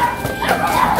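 A dog yips and whimpers in short bursts, fairly close, in a narrow alley with street noise and faint voices around it.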